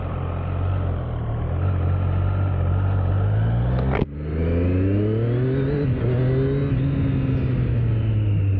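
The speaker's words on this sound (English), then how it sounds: "you really have a strong bike considering this is a 765cc motorcycle" A 2025 Triumph Street Triple RS 765cc motorcycle engine revs loud and close, holding a steady drone, then cuts sharply for a shift and climbs again through rising pitch.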